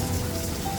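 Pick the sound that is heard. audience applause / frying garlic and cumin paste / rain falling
rain falling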